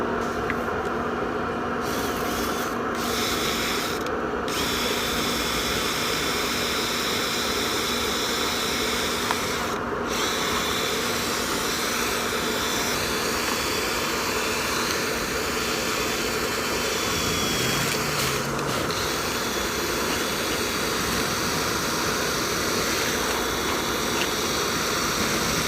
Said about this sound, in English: Run the brush through it again while I have the blower in there.